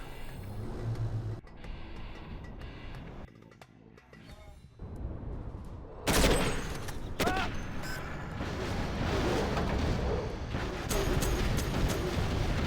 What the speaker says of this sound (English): the artillery are going to come in now and finish that off